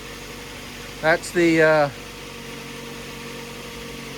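The engine of a 2002 Ford Focus idles in a steady, low, even hum from start to finish, with someone speaking briefly over it.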